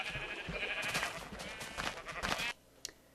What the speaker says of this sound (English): colored sheep are fun. I like shearing sheep